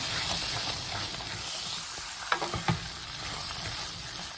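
Lentils stirred in a hot pan for a Chettinad ukkarai sweet sizzle with a steady frying hiss, broken by a couple of sharp scrapes of the spoon near the middle, close and fairly quiet with no talking.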